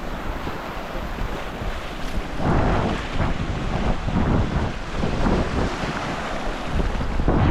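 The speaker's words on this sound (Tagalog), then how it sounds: "Nakahataw talagang alon." Waves crash and surge continuously along the baywalk in Tanauan amid heavy wind buffeting, a loud, rushing roar with no voices.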